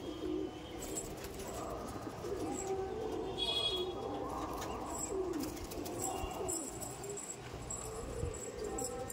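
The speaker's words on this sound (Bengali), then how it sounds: "এই দেখুন পায়রা" Sulemani Kagzi pigeons perched up high coo in low, rolling murmurs throughout, with a steady background hum and faint bird chatter around them.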